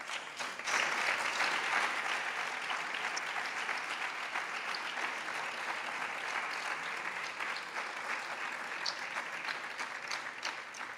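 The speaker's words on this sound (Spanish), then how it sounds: "un aplauso." Sustained audience applause at a festival poster presentation for a flamenco cante festival in Puente Genil, a dense steady clapping from a sizable crowd that swells at the start and holds evenly throughout, with no voices heard.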